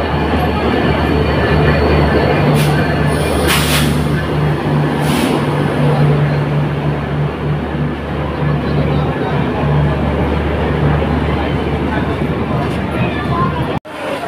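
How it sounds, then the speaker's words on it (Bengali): The crowded Madhumati Express rolling into a station, with a loud continuous rumble and a sustained low horn-like tone, a few sharp hisses and squeals, and voices faintly beneath. "ট্রেন চলে আসছে।"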